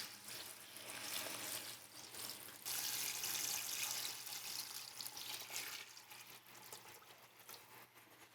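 Cold water runs steadily into a stock pot for chicken stock, a soft continuous rushing that grows fuller midway and then settles, heard alone and fairly quiet.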